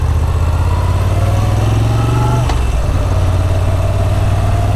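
Moto Guzzi motorcycle engine idling, a loud, steady low rumble that shifts in tone partway through, close and continuous with no talking.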